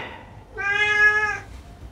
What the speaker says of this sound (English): my cats are all around me as we speak